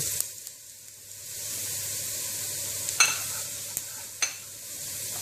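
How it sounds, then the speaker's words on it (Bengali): Onions and garlic fry in a pan with mustard seeds, making a soft continuous sizzle with a few sharp spoon scrapes and clinks near the end. "আমার পেঁয়াজ রসুনগুলো ভাজা হয়ে গিয়েছে।"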